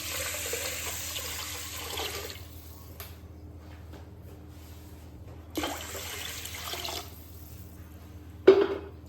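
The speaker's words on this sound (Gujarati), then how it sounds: "હવે આપણે એમાં પાણી એડ કરીશું." Tap water runs into a pot of washed rice in two bursts of steady splashing, each a couple of seconds long, separated by quiet kitchen background, ending with a short clatter.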